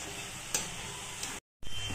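Homemade french fries fry in a pan on a lowered flame, giving a steady, fairly loud sizzle with a couple of sharp clicks and a brief dropout before the sizzling resumes.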